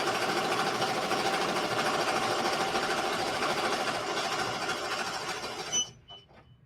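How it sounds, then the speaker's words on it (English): Embroidery machine stitching fast with pink thread, a steady close mechanical whir and rapid needle patter that runs several seconds and then stops abruptly, a few faint clicks trailing after. "All right, so now it's stitching."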